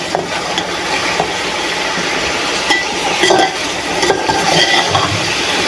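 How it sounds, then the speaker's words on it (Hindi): Chicken frying with garlic and ginger paste in a pot for pulao, a steady close sizzle with repeated scraping stirs and light clinks of a spoon against the metal, with no talk over it. "तो इसको मैं अभी ज़रा थोड़ी देर फ्राई करती हूँ, लहसुन अदरक का भी कच्चापन निकल जाए"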